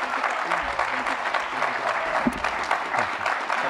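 An audience at a congressional candidates' debate gives a warm round of applause for the candidates and moderator, steady dense clapping filling the hall with no break.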